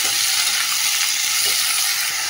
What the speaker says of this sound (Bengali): সবজিটাকে আমি এবারে নুন দিয়ে গ্যাস করে ভেজে নেবো হালকা করে।